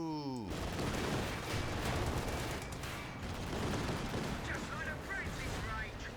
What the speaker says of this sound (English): they get a Vickers machine gun with being expert engineers